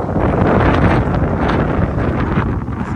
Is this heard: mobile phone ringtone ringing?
no